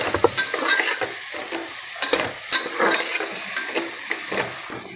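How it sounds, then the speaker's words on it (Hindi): Spices and chopped tomato sizzle and fry in a pan for dried-pea matar paneer, a loud, close, steady hiss broken by stirring scrapes, with no talking. "मसालों को 1 मिनट हम फ्राई करेंगे और इसी समय हम टमाटर को भी कट करके इसमें डाल देंगे।"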